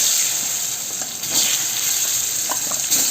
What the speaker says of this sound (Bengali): আমি এবারে এই যে আলুগুলোকে ভেজে নেব।